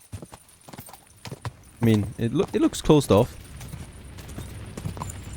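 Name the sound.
horse hooves clip-clopping in Kingdom Come Deliverance 2 video game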